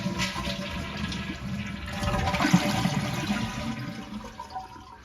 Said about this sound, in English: next we flush the toilet and there's still some water down in the bottom.